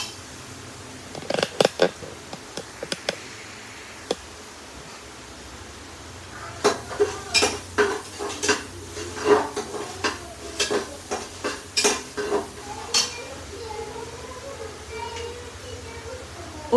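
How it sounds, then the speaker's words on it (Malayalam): Garlic, ginger and masala being stirred in a pot for tomato rice: scattered spoon scrapes and taps, sparse at first and then quicker and denser, with a faint sizzle underneath. "അത് ഇറക്കി നന്നായി നമുക്ക് ഇളക്കി കൊടുക്കണം."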